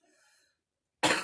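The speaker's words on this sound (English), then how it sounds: "Listen to me coughing again." A single short, harsh cough bursts out close and loud after a moment of near silence, preceded by a faint tonal sound.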